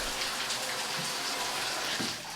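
Steady splashing flow of water running from a tap opened by turning a knob, close and continuous with a few brief spattering accents.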